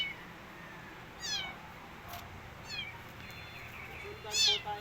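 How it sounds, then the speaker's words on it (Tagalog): A cat meows in a forest, three short, clear meows spaced about a second and a half apart, fairly close, over a low steady outdoor background. "Sundan po tayo ng isang pusa."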